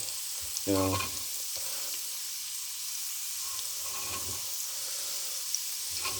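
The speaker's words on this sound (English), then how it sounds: "Guess this is fried onions and garlic first." Onions and garlic fry for a sofrito in a pan, giving a steady soft sizzle with a brief louder burst early on and occasional light stirring scrapes.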